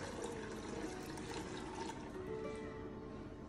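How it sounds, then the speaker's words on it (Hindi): Water is poured into a coffee maker's reservoir for a few cups, a soft, continuous trickle and splash heard close up and fairly quietly, with no talking. "पानी इसके यहाँ पे डाल देते हैं।"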